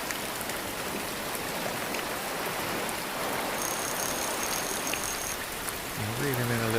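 Steady rain falling on an Oregon beach by the surf, a dense even hiss holding throughout, with a brief tonal sound rising near the end.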